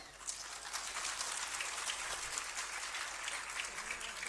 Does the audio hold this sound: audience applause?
yes